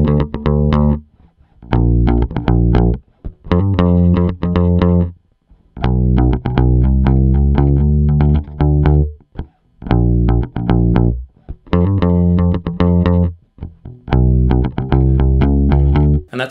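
A distorted electric bass plays a repeating low riff in short choppy phrases with quick hammer-on and pull-off slurred notes and brief gaps between the bursts.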